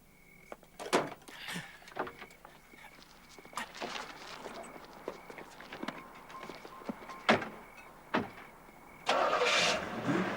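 A car engine is cranked and caught amid a scramble of scattered thumps and knocks, the starter and motor building into a rough, sustained roar near the end; no voices are heard.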